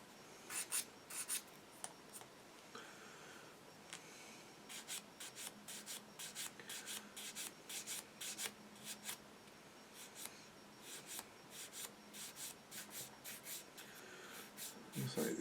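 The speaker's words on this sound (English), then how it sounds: "this sander's starting to get a bit worn out now, but still works" A worn hand sander rubs across small plastic parts from an Eduard Spitfire Mk VIII model aircraft kit in quick, rhythmic, fairly quiet scratchy strokes, repeated with brief pauses between bursts.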